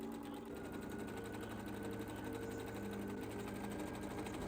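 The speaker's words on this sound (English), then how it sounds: "And then sew a second final seam." A sewing machine stitches a final seam on a homemade Frozen-style Christmas dress, a continuous fast mechanical whir with a steady needle rhythm, close and even throughout, no voices.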